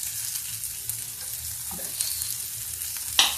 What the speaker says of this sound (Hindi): अब इसमें हम डाल देते हैं इसमें प्याज।